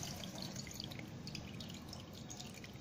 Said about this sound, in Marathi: गाळणं ठेवून हे पाणी काढून घ्यायचं